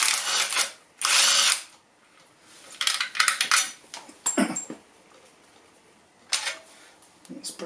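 Power tool, likely an impact driver or drill, removing a bolt while fitting a non-standard serpentine belt on an engine, heard as several short loud bursts with pauses between, plus clinks of metal tools.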